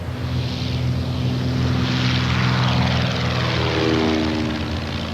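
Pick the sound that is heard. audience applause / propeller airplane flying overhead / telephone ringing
propeller airplane flying overhead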